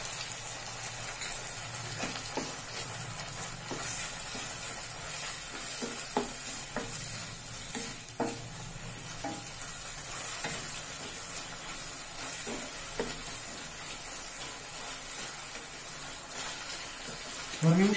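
Egg chilli sauce of tomato sauce and soy sauce sautés in a pan with a faint continuous sizzle and hiss, scattered light stirring clicks, and a louder knock at the very end.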